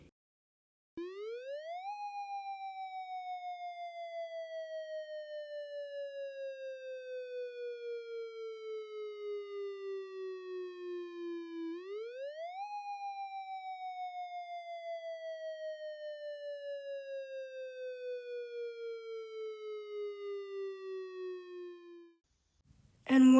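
An outdoor civil warning siren wails its alert signal in two long cycles, each pitch rising quickly then sliding slowly downward, loud and steady throughout before cutting off at the end.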